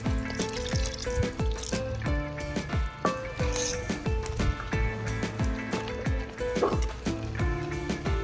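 Tamarind water, squeezed from tamarind soaked in warm water, pours and trickles into a pot of Kerala-style roasted-coconut sambar, a steady liquid dribble heard close up under background music.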